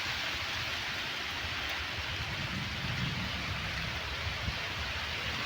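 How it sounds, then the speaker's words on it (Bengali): Heavy rain pours steadily as a dense, even hiss with a faint low rumble underneath, continuous and moderately distant, during a downpour at a rural home. "খুব জোরে বৃষ্টি হচ্ছে"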